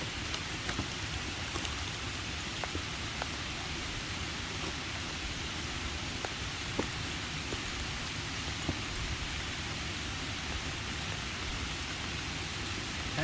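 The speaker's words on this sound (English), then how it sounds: "it is, holy smokes, is it ever starting to rain" Heavy rain falls steadily at a hammock campsite in the woods, a dense, even hiss with occasional sharper drips, continuous and close with no one talking.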